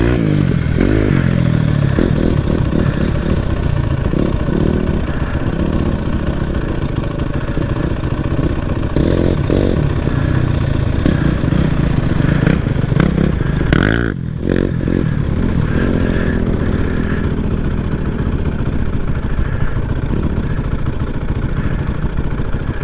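Four-wheeler ATV engine running hard at speed, a loud sustained raspy roar with surges and rattling clatter, heard close and continuous throughout with no talk.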